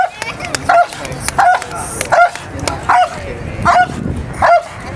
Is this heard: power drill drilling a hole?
no